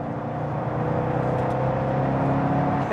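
A C6 Corvette Z06 pulls in 4th gear, its engine a continuous smooth drone with a faint rising whir, heard from inside at moderate level.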